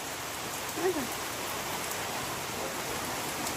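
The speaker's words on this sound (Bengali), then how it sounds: "আবার এই যে ঝমঝমিয়ে নামলো বৃষ্টি, এই দেখো ভালো বৃষ্টি হচ্ছে কিন্তু," Heavy rain pours down in a continuous, even hiss, loud and close, with a faint brief voice-like sound early on.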